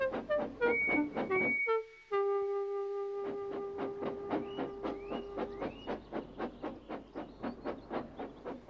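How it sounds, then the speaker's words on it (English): A steam engine shunting trucks chuffs in a steady rhythm, with a long whistle and hissing steam before the puffs pick up pace. "After a great deal of shunting, Percy was waiting for the signalman to set"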